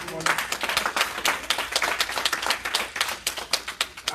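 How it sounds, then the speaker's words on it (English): A church congregation claps in praise during a morning service, a dense burst of many hands with loose rhythmic peaks, mixed with voices calling out. "give the Lord a hand clap of praise this morning"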